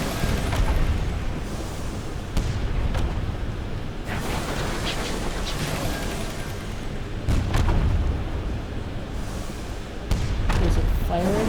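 A ship's guns fire at a marauder in Sunless Skies, with booming blasts and bursts over a steady rumbling engine drone and a voice talking throughout.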